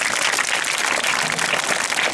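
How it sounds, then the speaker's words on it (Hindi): An audience claps for a child at a motivational talk, a dense, steady burst of many hands that stays fairly loud and even throughout. "इस बच्चे के लिए ताली बजाओ भी।"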